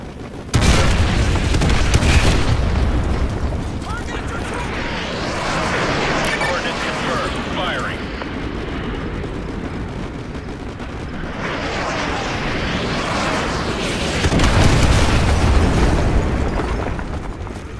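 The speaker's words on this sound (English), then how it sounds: "Artillery inbound." Artillery shells explode in Call of Duty Modern Warfare, rolling heavy booms and rumbling blasts that swell and fade over a sustained battlefield roar, with strong surges near the start, middle and end, and voices under the din.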